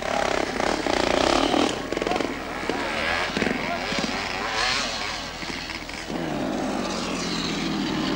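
Motorcycle engines drone and rev under strain on a steep section of an Austrian enduro course at the 1981 European Enduro Championships, with 500cc bikes struggling. The loud, wavering engine tone rises and falls while a commentator talks over it.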